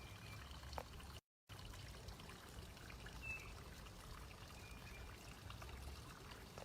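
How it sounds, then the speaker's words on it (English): Water trickling down a front yard fountain outdoors, a soft continuous pouring stream with a brief dropout and faint birds, no voices. "It's trickling down."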